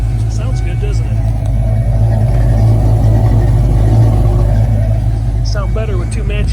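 A 1967 Ford Mustang convertible with a 5.0 engine idles with a steady, deep exhaust rumble through dual tailpipes, running close and loud throughout while people talk over it.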